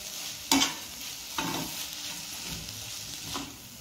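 Tomatoes frying in a pan for fried rice made from leftover rice, with a few sharp stirring scrapes over a steady soft sizzle, close and fairly quiet, no talk.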